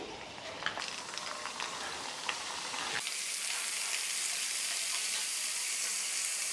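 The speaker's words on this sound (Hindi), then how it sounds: "तेल हल्का गर्म होने के बाद हम एक एक करके कैंडी को डालेंगे।" Paneer candy deep frying in hot oil gives a steady, loud hissing sizzle that swells sharply partway through and then holds as continuous bubbling crackle, with no talking.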